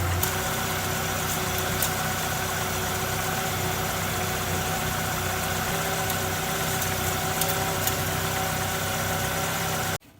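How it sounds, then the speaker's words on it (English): A 1999 Mazda B2500 pickup truck engine idles with a steady, loud mechanical rumble and hum, continuous and close, then cuts off abruptly at the end. "The engine is idling."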